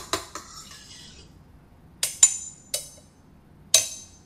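A spoon clinking against mugs of different pitches in a video game: bright, ringing taps struck one at a time with irregular gaps, each ringing out briefly, close and clear against near silence.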